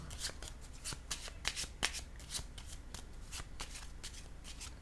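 Tarot cards being handled and laid down during a Scorpio reading, with a steady run of soft, quick papery flicks and shuffles close by, faint and without any talk.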